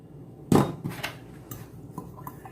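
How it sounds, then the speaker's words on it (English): A utensil clanks and scrapes in a bowl while cheesecake crust crumbs are stirred with sugar and melted butter, one loud knock followed by a few lighter taps and scrapes. "Let's go ahead and get it mixed up a little bit just to get that sugar mixed in there."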